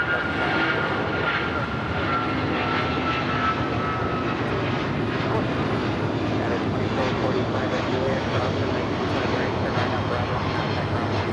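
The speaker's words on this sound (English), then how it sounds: "this flight heading to Dallas, Fort Worth," An American Airlines jet takes off from LAX for Dallas-Fort Worth, a strong, sustained engine roar that stays loud and even with little change.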